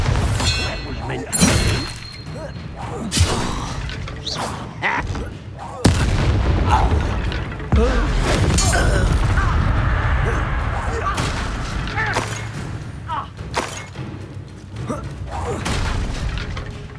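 Bombarda spell explosions go off in Hogwarts Legacy, a handful of loud booming blasts breaking through continuous dense game noise and rumble across the whole stretch.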